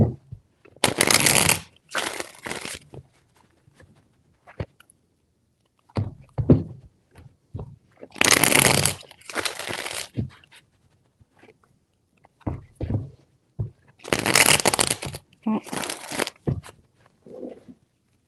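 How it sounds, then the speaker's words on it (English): Tarot cards shuffled by hand in several bursts of crisp, rapid riffling, each lasting about a second or two, separated by short quiet gaps and soft handling noises, close and fairly loud. "3 more shuffles"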